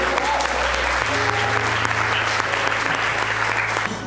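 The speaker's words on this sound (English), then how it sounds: "let's give a round of applause" Sustained audience applause fills a tenth-anniversary celebration for a nonprofit startup organization, a dense steady wash of many hands clapping at even loudness, with a low hum beneath and a slight fade at the very end.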